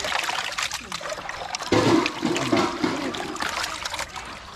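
Water is poured steadily into a vessel for washing a large beef leg, a loud, close rushing stream that swells midway and then tapers off.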